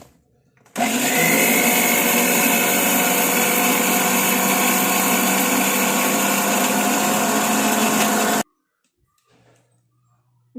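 A kitchen mixer grinder blends tomatoes with a little water into a paste. It starts with a loud, steady whirring motor drone that runs about eight seconds and then cuts off abruptly into near silence.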